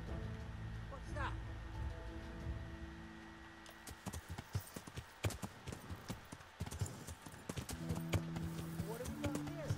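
Rapid hoofbeats gallop in a steady, close clip-clop rhythm after a horse whinnies, with people talking over the sound.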